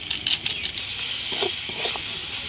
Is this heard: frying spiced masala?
yes